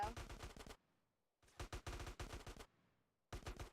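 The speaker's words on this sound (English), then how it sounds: "Ah, shit, we're getting shot at." Bursts of automatic gunfire in a Grand Theft Auto San Andreas DYOM mission, rapid rattling volleys in three separate clusters broken by short silences, loud and close.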